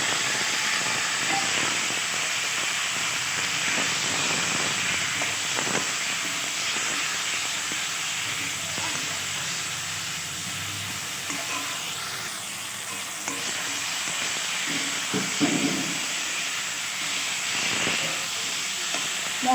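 Steady, loud sizzling of a ground spice paste frying in hot oil with potatoes, continuous hissing with occasional stirring scrapes, no talking.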